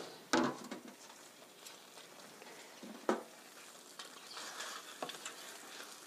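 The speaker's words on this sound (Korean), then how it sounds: "소스가 바글바글 잘 끓고 있군요" A cream sauce with tofu bubbles and simmers softly in a pan, giving a faint, steady sizzle broken by a few sharp clinks of a utensil.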